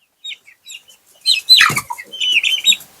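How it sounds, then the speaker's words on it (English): Chickens cluck and chirp in short bursts, a few soft calls at first, then a louder flurry of overlapping clucks close by. "look at them chickens"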